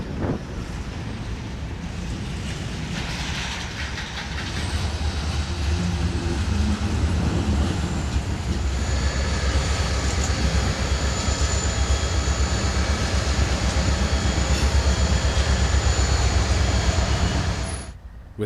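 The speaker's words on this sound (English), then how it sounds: "the three big engines move forward, preparing to back up and hook to the train" Three heavy GE diesel locomotives in a rail yard rumble steadily in a deep, loud drone that swells after a few seconds, holds, then drops away at the end.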